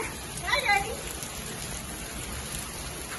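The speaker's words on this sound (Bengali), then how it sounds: "দেখেন বৃষ্টি পড়তেছে।" Steady rain falls outdoors as a soft, even hiss of drops, fairly faint and continuous over a few seconds.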